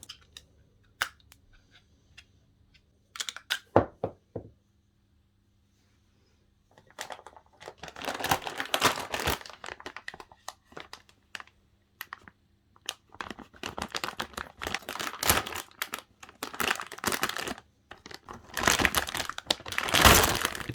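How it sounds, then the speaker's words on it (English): Clattering and scraping of a karambit knife as someone fumbles to open it, scattered clicks at first, then a long run of dense rattling, crinkling handling noise, fairly close and without talk. "here's me, failing to open the karambit"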